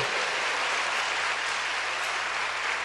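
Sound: audience applause at a conference

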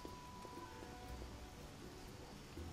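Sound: rain falling in the video game The Witcher

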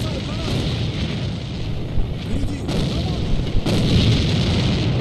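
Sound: grenade explosions in the video game A.V.A

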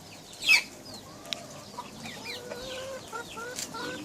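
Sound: chickens clucking

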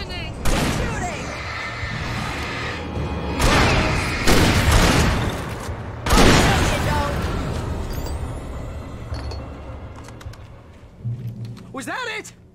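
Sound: gunfire in Alan Wake Remastered video game

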